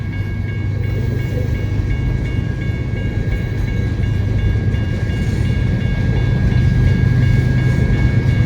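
Freight train rolling steadily past at Sublette Avenue as its rear DPU locomotives go by, a loud continuous rumble with engine drone and a faint high whine that builds slightly toward the end.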